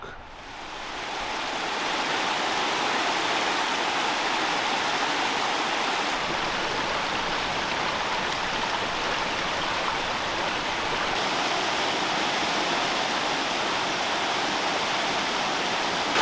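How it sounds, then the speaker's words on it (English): Continuous rushing and babbling of a flowing woodland brook, steady and fairly loud throughout, with no voices. "I love to see running water. I love the sound of it too, very relaxing."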